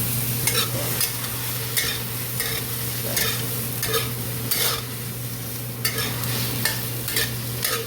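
Food being stir fried in a pan over high heat, a steady close sizzle with repeated scraping strokes of a utensil roughly every half second, plus a constant low hum underneath.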